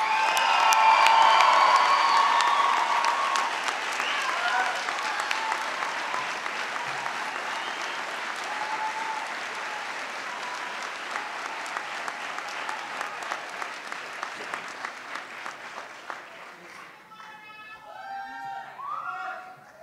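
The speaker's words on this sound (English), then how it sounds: "Let's give them one last round of applause." An audience at a Doctor of Pharmacy white coat ceremony gives a round of applause, loud clapping with a few cheers that swells early, then thins out as a voice begins speaking at the end.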